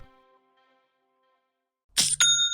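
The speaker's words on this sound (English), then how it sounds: "That's the sound of another sale on Shopify" A Shopify sale notification chime rings out after a faint hum and near-silence: a bright, close two-part ding with a sustained tonal ring, loud and alone near the end.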